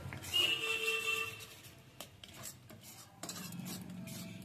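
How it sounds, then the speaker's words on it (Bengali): A spoon scrapes and stirs a thick sweet milk mixture for kacha golla in a kadai, with irregular metallic clinks and scrapes. The sounds are close and moderately quiet, with no talking. "এভাবে অনবরত নেড়ে যেতে হবে, লক্ষ্য রাখতে হবে যাতে কড়াইয়ে লেগে না যায়।"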